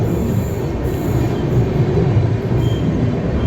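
A Rajdhani Express train runs through Mathura Junction, heard from on board as a steady, close rumble of wheels on rails with faint squeals and clatter, no voices.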